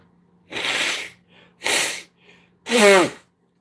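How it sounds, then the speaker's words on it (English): Three sharp, noisy blasts of nose blowing, each about half a second, separated by short pauses, close and fairly loud. "let me blow my nose, excuse me"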